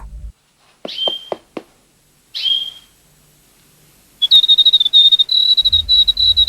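A cartoon bird calls with a few sharp chirps, then a short whistled note, followed after a pause by a long, pulsing trill that carries on loudly to the end against an otherwise quiet background.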